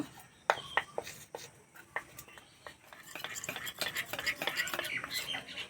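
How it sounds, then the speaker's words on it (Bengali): A spoon stirs white oil into batter in a bowl for rumali paratha, close and quiet, starting with sparse clinks against the bowl, then turning into rapid, continuous scraping and tapping. "এই চামচে তিন চামচ সাদা তেল ভালো করে গুলে নেব"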